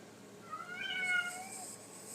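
A cat gives a single drawn-out meow, moderately loud and near, over a faint steady background hiss with no talking.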